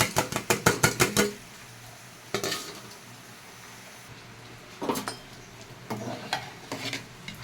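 Washed mung dal goes into a pot of hot water with a quick run of sharp metallic clinks, then scattered clatters and scrapes of a utensil against the pot over a low background.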